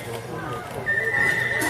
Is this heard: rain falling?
no